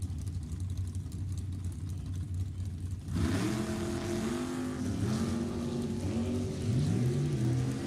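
Nostalgia drag racing car at an NHRA heritage meet, its engine idling roughly then revving hard and launching down the strip with a loud, rising, sustained roar that climbs through gear changes, no talk over it.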